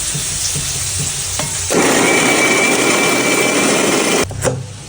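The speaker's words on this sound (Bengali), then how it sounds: "এরপর পেস্ট করে নিতে হবে, সামান্য জল দিয়ে পেস্টটা করে নিতে হবে।" An electric mixer grinder whirs loudly as cooled spices are ground into a paste with a little water, starting abruptly after a moment of quieter kitchen noise, running steadily for a few seconds, then cutting off.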